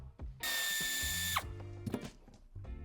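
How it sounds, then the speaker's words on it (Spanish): A power tool whirs for about a second as it backs a screw out of the interior trim of a 2006–2012 Mercedes-Benz GL (X164), followed by quiet clicks and handling sounds, close up and alone. "retiramos el tornillo que sujeta esta pieza en la parte central"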